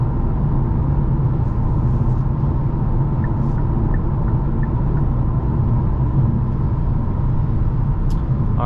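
A 2023 Hyundai Kona N turbocharged engine heard from inside while driving, a loud steady low rumble with road noise throughout.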